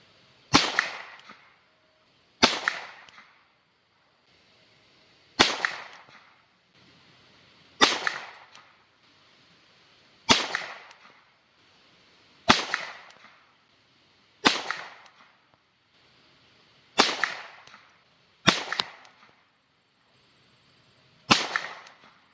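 Ten sharp shots of Aguila .22 LR fired from a Ruger rifle, each a crisp crack with a short decaying tail, spaced evenly about two seconds apart, clear and alone.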